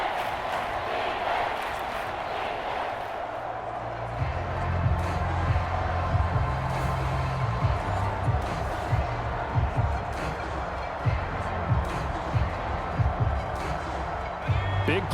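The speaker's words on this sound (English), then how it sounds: "That just means this crowd's going to get even louder" Stadium crowd noise roars steadily throughout a Madden NFL 25 football game between the Chicago Bears and Houston Texans, a dense continuous din with occasional louder swells, under game commentary.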